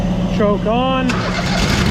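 A truck engine cranks over with the choke on, a rising whine sweeping up under steady broadband rumble before it catches, heard up close in a farm shed.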